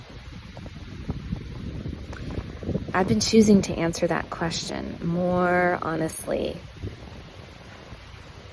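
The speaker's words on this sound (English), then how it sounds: "you might hear the wind. It's a pretty windy day to be recording" Gusty wind buffets the microphone with low rumbling bursts while a person speaks outdoors.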